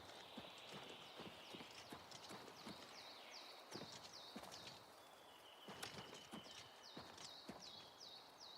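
Horse hooves clip-clop at a steady walking pace in a fantasy role-playing game, close and distinct, with birdsong chirping in the background.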